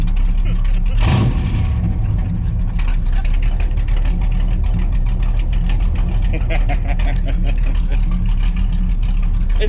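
A Corvette with a 454 V8 engine idles loudly at 500 RPM with a low steady rumble and rattling, close up, with a voice heard briefly near the start.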